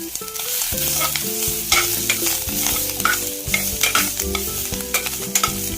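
Coriander leaves stirred into masala frying in a pan: a continuous close sizzle with repeated scraping strokes of a spoon against the vessel, unevenly rhythmic, no voices.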